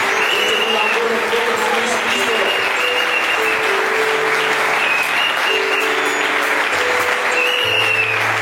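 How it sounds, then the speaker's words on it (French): A church congregation applauds and cheers in a dense, steady clatter of clapping that runs for several seconds, with voices and cheering mixed into the crowd noise. "Nous acclamons très fort le Seigneur Jésus-Christ."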